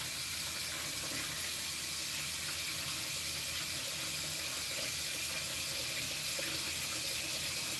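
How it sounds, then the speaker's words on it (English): A kitchen sink fills from a sprayer on its hard setting. Water hisses and splashes steadily and evenly at a fairly low level the whole time, with no voices. "pop this right in the sink, overflow it with water, spray it with your hard sprayer setting"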